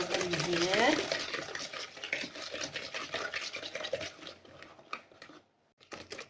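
Eggs and sugar whisked together in a bowl for a semolina basbousa cake, a steady scraping, whirring stir running continuously and close, briefly stopping near the end before resuming.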